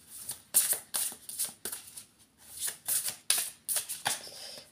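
A deck of tarot cards shuffled for a reading, producing close, crisp riffling bursts in a steady rhythm of repeated flurries, heard alone with no voices.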